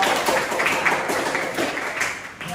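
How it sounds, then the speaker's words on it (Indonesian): A classroom of students claps for a discussion group, a dense burst of applause that rises and falls in waves and fades toward the end. "tepuk tangan dulu untuk kelompok"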